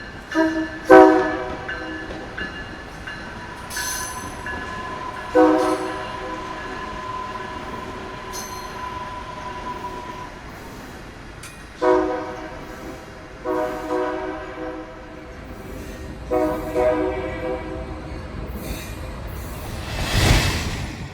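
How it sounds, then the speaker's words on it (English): An inbound Metro Electric train passes through a city park toward Millennium Station, sounding several horn blasts in a broken sequence over a low rolling rumble, moderately distant, ending with a burst of rushing noise. "An inbound Metro Electric passes through the park on its way to Millennium Station."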